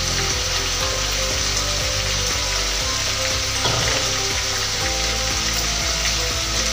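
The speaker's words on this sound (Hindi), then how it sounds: "मसाला हमारा बहुत अच्छे से ही भून रहा है ये।" Masala spice paste for chicken curry fries steadily in a lidded pan, a dense continuous sizzle with a regular low knocking rhythm running underneath throughout.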